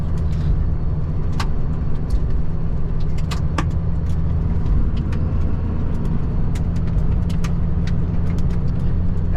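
A Ford F-350 diesel pickup truck loaded with scaffolding drives along, its steady low engine rumble and road noise loud and continuous, with scattered clicks and rattles over the top and no talk.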